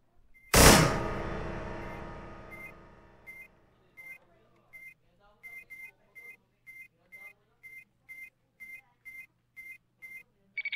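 A placed time bomb in a first-person shooter game beeps in short, evenly spaced electronic pulses that quicken slightly, following a loud initial blast that rings out and decays over a couple of seconds.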